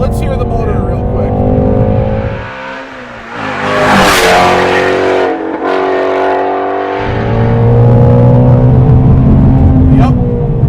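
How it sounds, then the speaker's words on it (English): A Ford Shelby GT350 base model's engine revs up hard, climbing to a loud peak and dropping back, then rising again to a sustained roar close by. "Well, let's hear the motor real quick."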